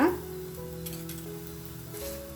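Oil sizzles on a hot pan as a wheat flour lachha paratha fries, a steady soft hiss throughout, with a faint hum present underneath.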